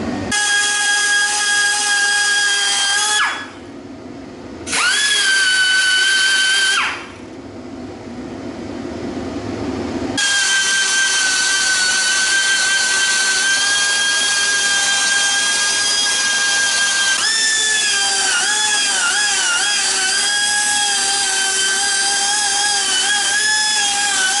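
Power grinder smoothing rough metal edges on a Pontiac 455 engine part, loud steady whine that starts, drops briefly twice, then runs continuously with pitch shifts as pressure changes, no talking.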